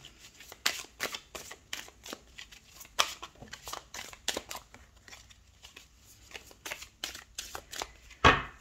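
A tarot deck is shuffled and then cut by hand, a steady run of close, crisp riffling card flutters ending in one louder slap as the pile is split, with no talking over it.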